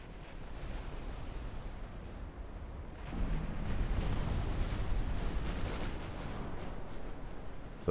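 Torpedo hits exploding on ships in Ultimate Admiral: Dreadnoughts naval battle: a steady rumbling bed of distant booms that swells after a few seconds into a denser, louder roar of overlapping explosions.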